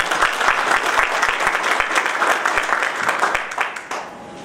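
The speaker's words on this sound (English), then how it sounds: "Can we give them a clap?" Sustained applause from a gathered audience at an immigration issues forum, dense and steady for several seconds before tapering off near the end.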